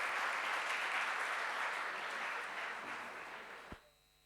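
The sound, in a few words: audience applause welcoming a guest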